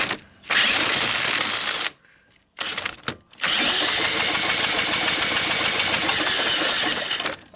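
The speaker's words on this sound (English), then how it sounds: "I just once again put a socket on my drill, plugged it right in here." A power drill with a socket whirs loudly as it cranks the engine of a wrecked Honda ATC 200S, stopping briefly twice before resuming a long, steady cranking run.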